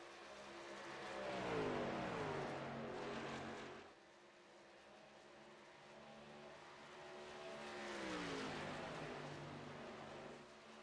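Race trucks roar past at Texas Motor Speedway in a Truck Series race, engines swelling and fading in two loud pass-bys with a lower, steadier rumble between them, no voices over the track noise.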